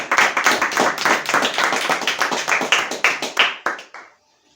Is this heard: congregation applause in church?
yes